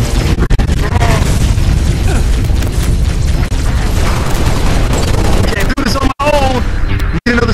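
Heavy gunfire and booming explosions from a Halo Reach battle at a base, dense and loud throughout, with sharp bursts and deep blasts blending into a continuous barrage and brief gaps near the end.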